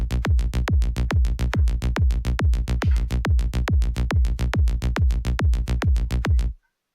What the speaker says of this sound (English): Let's hear the bass and kick for the first basic tree, as I call it, for progressive trance.